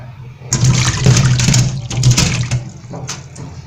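Running water washes cut cauliflower pieces in a kitchen, a steady splashing rush with brief surges and a faint tap hum, close by and loud for about three seconds before easing off.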